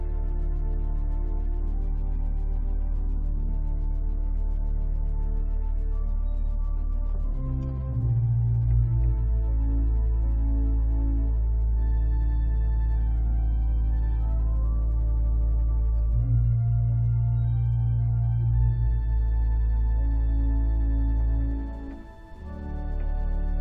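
Two swell string stops sounding together on the church pipe organ at Llangyfelach Church: sustained, reedy chords over a deep bass, with the harmony shifting slowly through a long, steady passage and no voices.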